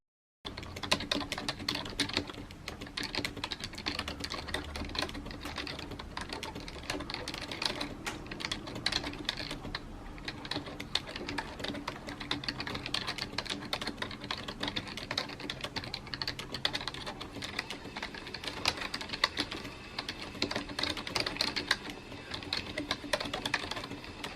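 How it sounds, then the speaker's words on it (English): Steady, fast typing on a soft-sounding Logitech MK710 wireless membrane keyboard, keys pattering continuously at close range with no talking. "here's what the keyboard sounds like"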